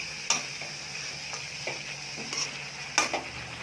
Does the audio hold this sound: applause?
no